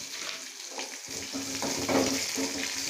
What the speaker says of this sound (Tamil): இதெல்லாம் போட்டு நல்லா தாளித்து